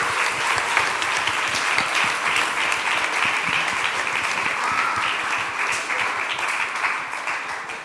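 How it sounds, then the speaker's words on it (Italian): A church congregation bursts into steady, dense applause during an Italian-Portuguese worship service, the clapping loud and sustained throughout before easing slightly at the end. "Applausi!"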